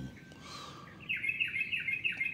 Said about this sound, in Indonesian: biarkan burung tersebut bernyanyi dan berkicau dengan bahasa dia